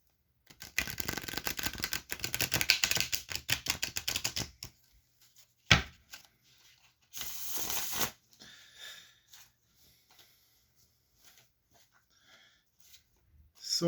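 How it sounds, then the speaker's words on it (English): A tarot deck is shuffled in a fast, dense riffle of flicking cards for several seconds, followed by a few scattered taps and shuffles, close and fairly quiet. "Give these guys a shuffle real quick."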